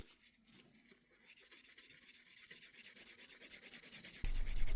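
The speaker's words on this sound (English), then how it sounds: "I personally like the traditional method of burnishing using wood or antler." A leather edge on a hair barrette is burnished by hand with a piece of wood or antler: quick rhythmic rubbing strokes that grow steadily louder and end in a heavier, fuller scrubbing burst.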